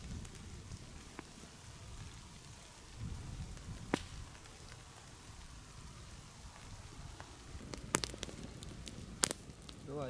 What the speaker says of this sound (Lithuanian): Lietaus lašai.